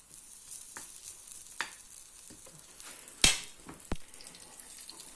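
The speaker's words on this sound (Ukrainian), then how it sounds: "Так, добре, ось так я смажу." Soft sizzling of food frying in olive oil in a pan, with a few sharp clinks and stirring scrapes; no talking.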